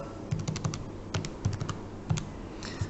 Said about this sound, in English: 80 squared plus 110 squared equals C squared, and you type that into your calculator.